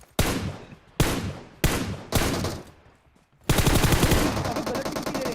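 M4 rifle fire in PUBG Mobile: four loud, close single bursts about half a second apart, a short pause, then a sustained rapid automatic stream.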